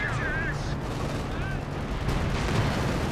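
Artillery shells slam into British Firefly tanks during a 4v4 Company of Heroes 2 battle on the Nordwind map, a dense, unbroken roar of blasts and gunfire that stays loud throughout.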